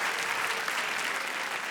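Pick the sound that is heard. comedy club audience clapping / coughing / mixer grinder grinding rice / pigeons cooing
comedy club audience clapping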